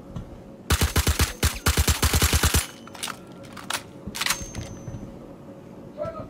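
Gunfire in a Star Citizen bunker fight: a rapid automatic burst of sharp, loud shots, then scattered single shots and short bursts, some farther off.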